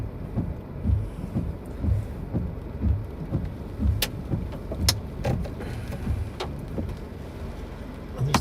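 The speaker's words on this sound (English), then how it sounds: "You can see they got a lot of rain here," Heavy rain drums steadily on a vehicle during a supercell storm chase in Kansas and Nebraska, with a few sharp cracks and a low rumble over the roar of wind and rain.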